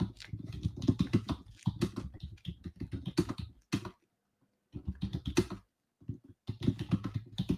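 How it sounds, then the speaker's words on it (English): Close, steady typing on a computer keyboard, with rapid clicking bursts broken by one short pause partway through. "I'm going to type this in right now."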